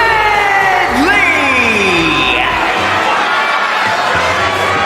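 A WWE 2K25 arena crowd reacts as the tag team Pretty Deadly comes out, a loud continuous roar of voices. Sliding whistle-like tones ring over it, and a commentator talks across the noise.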